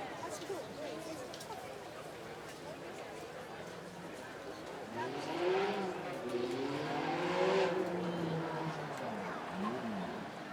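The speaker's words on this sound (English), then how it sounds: "We had an F430 in the Sound Off yesterday, sounded glorious then, sounds even better" Ferrari F430 with a 4.3 litre V8 running on track at a supercar weekend, its engine note rising and falling through revs and growing louder toward the middle, with crowd chatter and voices throughout.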